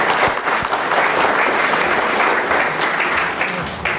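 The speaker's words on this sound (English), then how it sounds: "A big round of applause for Kelly." An audience gives Kelly a big round of applause at a live show, a steady, fairly loud wash of clapping that holds for several seconds without letup.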